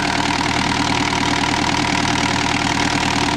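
A Kubota four-cylinder diesel engine in an RX505 excavator idles steadily nearby, a loud, even low rumble with a knocking pulse and no voices.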